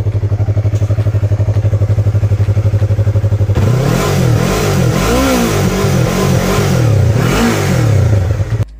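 A Yamaha R3 motorcycle engine idles with a steady, even thrum, then is revved hard several times, each rise and fall loud and close.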